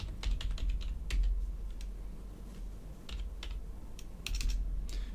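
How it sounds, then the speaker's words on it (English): Close, quick typing on a computer keyboard: irregular bursts of light key clicks with short pauses, alone against a low background hum. "if I can type"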